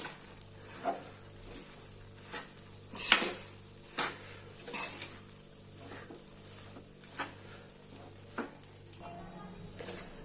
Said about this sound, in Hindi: सभी चीजों को अच्छे तरीके से मिला देंगे